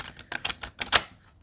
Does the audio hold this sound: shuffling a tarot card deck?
yes